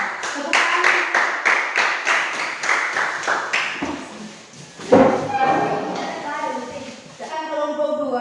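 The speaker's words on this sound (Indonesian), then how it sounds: "Tepuk tangan." A classroom group claps in a quick, steady rhythm for several seconds, then the clapping fades and a voice speaks over the room.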